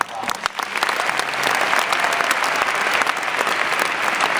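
Dense audience applause at a gathering honoring Teach for America teachers, a brief clap or two then swelling into loud, sustained clapping that fills the room.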